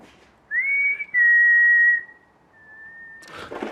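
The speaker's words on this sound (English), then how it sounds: "There was definitely a whistle." A clear, sustained whistle sounds in a quiet bus museum, first a short high tone, then a longer steady note that gently falls and fades, followed by a brief rustle of movement.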